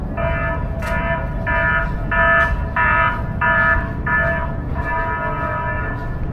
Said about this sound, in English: Just as the muster alarm sounds.